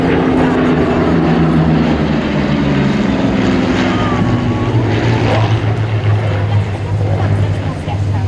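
Propeller aircraft flying at the Duxford Flying Legends airshow, a loud sustained engine drone that shifts in pitch as it passes, with a voice talking over the noise.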